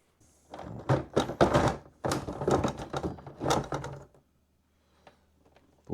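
A headlight cover is pried off a Harley-Davidson Road Glide fairing, with a quick series of close plastic clunks, clicks and rattles in bursts, followed by quiet.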